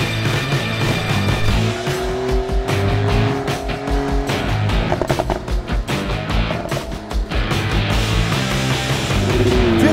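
A 2018 Porsche 911 Carrera T drives along, its engine droning steadily with rising and falling revs and gear changes throughout, loud and close, with no talking.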